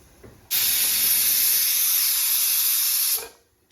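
Pressure cooker on a stove cooking tomato rice, releasing steam in a loud, sustained hiss that bursts on abruptly and runs for nearly three seconds before fading out.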